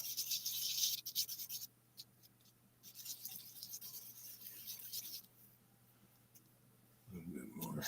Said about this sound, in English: Tiny bit of sanding on this end.